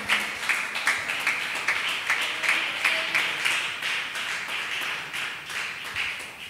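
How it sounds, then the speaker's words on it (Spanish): A congregation at an evening youth church service claps together in praise, a steady, dense patter of many hands sustained throughout at moderate distance. "Dele un aplauso al Señor en esta noche"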